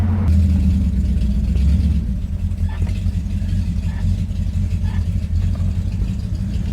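A 1934 Ford with a loose torque converter drives along in third gear, its engine giving a loud, steady low rumble close by, easing slightly partway through, with no voices.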